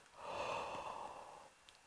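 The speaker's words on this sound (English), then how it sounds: "for a breath, I like to think about yawning in just so that you stay really relaxed." A relaxed, open inhaled breath like a yawn, taken to play the French horn, makes a soft, airy rush that swells and fades over about a second and a half. It is close and quiet with no talking.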